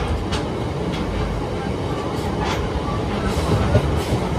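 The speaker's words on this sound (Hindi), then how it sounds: "तो चलिए निकल चुकी है हमारी ट्रेन" A passenger train running steadily just after leaving Tulsi Nagar railway station, its wheels giving a continuous loud rumble with faint clickety-clack beats, heard from on board without talk.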